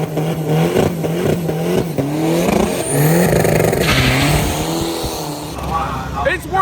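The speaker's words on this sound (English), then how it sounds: "It's worth coming to these events for the burnouts alone." At a drag strip in Bangkok, a 4-cylinder turbo diesel drag car does a burnout, its engine revving hard in rising and falling sweeps while tires squeal loudly, with crowd noise and a commentator's voice underneath.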